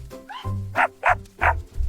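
A dog barks four times in quick succession over a short span, loud and close, with a faint whimper-like sound before the first bark.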